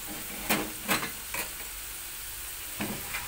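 Sausage frying in hot oil in a pan, with a steady soft sizzle broken by several sharp crackling spits and stirring scrapes.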